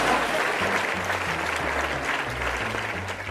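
An audience claps steadily in a room, a dense even patter of many hands sustained throughout with no voices above it.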